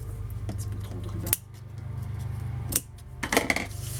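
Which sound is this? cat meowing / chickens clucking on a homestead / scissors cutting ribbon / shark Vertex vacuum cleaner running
scissors cutting ribbon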